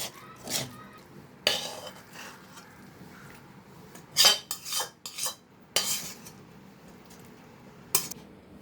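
A metal kadai of cooked kolmi greens is handled and taken off the stove, producing scattered clanks, scrapes and clinks of utensils against the pan in a home kitchen, irregular and moderately close.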